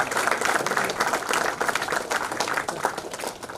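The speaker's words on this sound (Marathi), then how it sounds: "पुन्हा एकदा जोरदार टाळ्या होत्या." Audience at a farewell ceremony for a university registrar gives a dense, sustained round of clapping, loud and continuous throughout.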